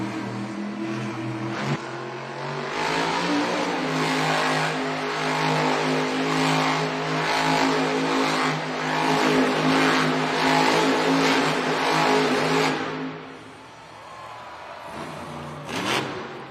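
Monster truck engine at an indoor arena during a donut run, roaring loudly and steadily with surging revs for most of the stretch, then dipping briefly before a final burst, with no voices heard.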